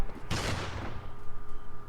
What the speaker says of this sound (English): That is an appropriate use of the hand cannon.